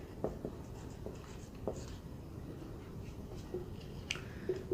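Chalk or marker writing on a board during a medieval Indian history lesson, faint scratchy strokes and taps in an irregular rhythm, close by and quiet.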